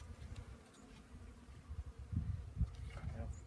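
Honeybees being introduced into a top bar hive outdoors, a low steady insect hum with a soft buzzing drone throughout, rising a little in the latter half amid faint handling noises.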